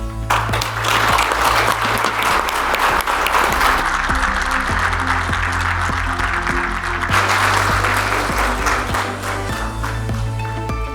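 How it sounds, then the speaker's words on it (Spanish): Audience applause at a SeguridadExpo 2024 security panel on intelligence, loud sustained clapping from a large crowd lasting throughout, with steady low musical tones running underneath. "Más fuerte el aplauso, por favor,"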